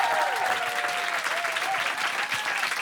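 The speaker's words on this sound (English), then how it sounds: "We're a big round of applause for Jane Bradley" A studio or live audience applauds a guest at length, a dense and steady wash of clapping held at an even level from start to finish.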